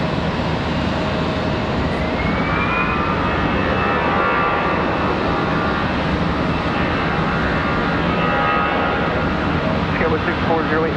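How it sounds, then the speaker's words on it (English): A Boeing 777 jet airliner comes back toward Charlotte Douglas International Airport. Its engines make a loud, steady roar with a slowly rising whine that runs the whole time, and airport chatter plays faintly underneath. "it looks like the 777 that was headed to Miami is on its way back"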